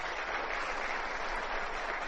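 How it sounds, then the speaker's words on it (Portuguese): An audience at a talk gives a steady round of applause, a continuous, muffled patter of many hands that stays even throughout, with no speech over it. "Eu peço inclusive um aplauso para eles."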